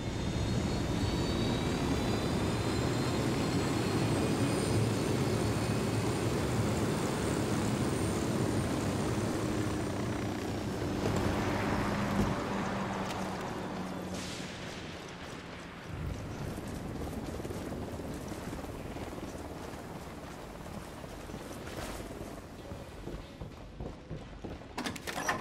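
Helicopter approaching in the video game Ghost Recon Wildlands, a loud continuous rotor and engine roar that swells and then shifts as it draws close, heard alone without talking.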